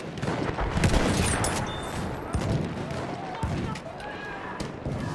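Machine gun fire rattles in dense, continuous bursts amid a noisy Battlefield 1 battlefield, loud and close, with a voice shouting over the din.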